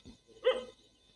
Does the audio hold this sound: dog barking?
yes